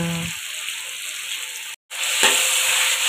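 Oil sizzling loudly in a pan as shiitake mushrooms are stir-fried with oyster sauce, a steady hiss with a brief break and scraping of the spatula.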